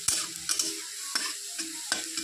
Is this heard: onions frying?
yes